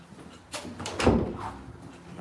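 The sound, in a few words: door being closed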